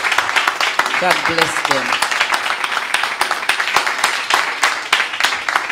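A church congregation claps for a couple standing before them, a busy spread of handclaps running throughout, mixed with someone speaking loudly and other voices calling out.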